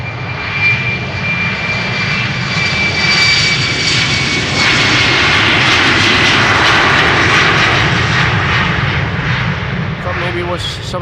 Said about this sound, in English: That is exactly why this airplane is continuing to take off.